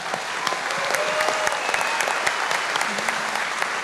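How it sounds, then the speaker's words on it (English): A town hall crowd on the Pine Ridge reservation in South Dakota applauds a cancer survivor, steady dense clapping with a few sharper claps standing out and faint voices underneath. "I would like to have everybody give her a round of applause."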